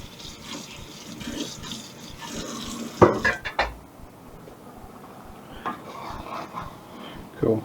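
Cold tap water runs steadily in a kitchen sink while things are rinsed, with occasional sharp clinks of dishes and utensils over the soft flow.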